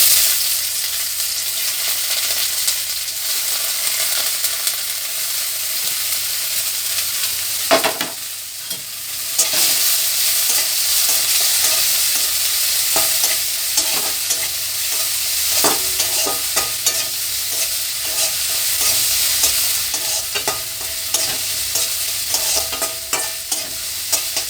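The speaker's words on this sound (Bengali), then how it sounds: "এখানে যে আমি পেঁয়াজ কুচি করে রেখেছি আর লঙ্কা, তার সাথে আদা রসুন সব কিছু এখন আমি দিয়ে দিচ্ছি।" Chopped onion, green chilli, ginger and garlic fry in hot oil in a wok, giving a steady loud sizzle with scraping stirring strokes throughout, a short lull near the middle, and no talking.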